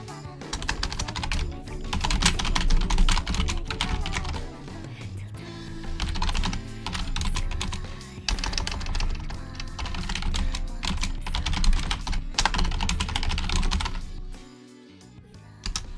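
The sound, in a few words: typing on a computer keyboard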